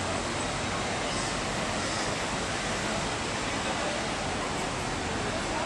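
The Lithaios, a tributary of the Pineios lined with plane trees, rushes past in a steady, loud wash of flowing water that fills the whole span without pause.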